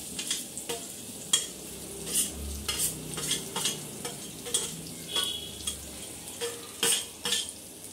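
Onion frying in a pan while being stirred, repeated scraping strokes against the pan over a soft sizzle, close and rhythmic.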